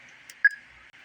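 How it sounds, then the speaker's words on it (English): Roger beep from a TID H3 handheld radio: one short, faint electronic tone over a quiet hiss, ending a transmission. "Roger beep. I don't know why they put Roger beeps in these things."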